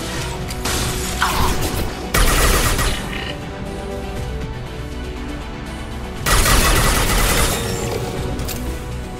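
Submachine gun fire in the Mass Effect 2 video game, loud dense bursts of rapid shots with two heavier volleys standing out, continuous action without talk.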